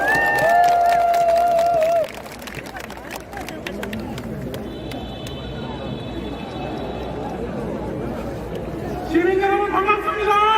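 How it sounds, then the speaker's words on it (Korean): Crowd at an outdoor political campaign rally in Gwangju applauding and cheering to welcome a first-time student voter, a dense roar of clapping and voices with tonal sounds over it. "환영의 박수 부탁드립니다."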